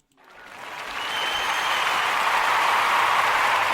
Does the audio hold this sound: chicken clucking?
no